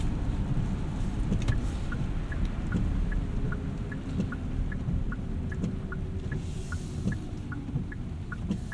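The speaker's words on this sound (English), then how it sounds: "Some spooky EV noises there coming down to speed." A 2025 Hyundai Santa Fe Hybrid Calligraphy AWD slows down with a faint, evenly pulsing electronic EV tone over a broad cabin rumble of road noise.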